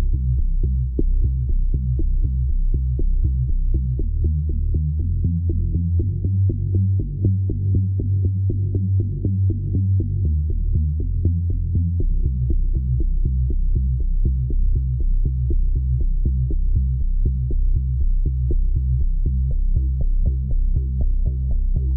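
Tone2 Electra 3 software synth playing an Italian-style bass pattern with alternating octave notes, a steady pulsing low line of evenly repeated notes that stays loud and continuous throughout with no voices.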